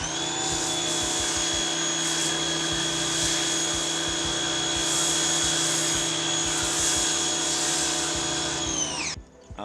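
A pressure washer foam cannon sprays car wash foam onto a 2006 Saturn Vue during an exterior detail. It produces a loud, steady motor drone with a whining tone that runs continuously and cuts off abruptly at the end.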